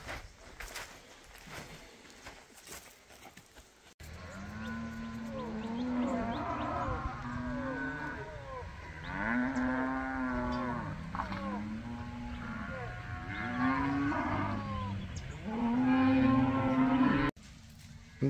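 Cattle being moved from one pasture to another moo repeatedly in long, loud, drawn-out calls from several animals, overlapping at times, with faint voices and outdoor noise in the background.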